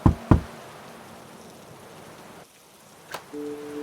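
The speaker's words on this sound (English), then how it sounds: "When she reached the Keen's porch, she knocked." Two sharp knocks on a wooden door on a porch during a chilly storm, close and loud, followed by a steady hiss of rain and a brief tone near the end.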